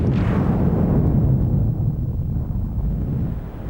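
Deep rumbling blast of a nuclear explosion striking an asteroid, a loud burst at the start that rolls into a long low roar and slowly fades.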